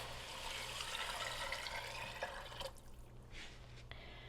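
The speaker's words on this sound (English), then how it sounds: "now I'm going to go ahead and add my beans and my broth into this mixture." Drained, rinsed beans and four cups of broth pour into a pot for Hoppin John, a steady splashing liquid rush for most of the clip that cuts off near the end, leaving faint drips.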